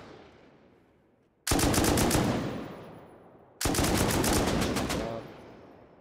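Two loud bursts of rapid automatic gunfire in the video game Rust, each lasting about two seconds and separated by a short pause.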